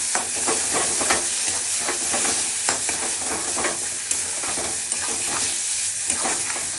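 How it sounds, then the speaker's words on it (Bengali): Prawn paste being stirred and fried in hot oil in a wok or kadai for a Bengali potol chingri dish, a constant loud sizzle with scraping stirs throughout and no talking. "এখন সব আবার একটু তেলে দিয়ে নাড়িয়ে নেব।"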